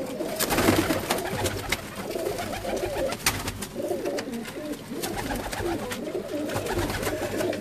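Blue pigeons coo continuously, several soft throaty calls overlapping in a steady rolling murmur, with scattered light clicks and rustles.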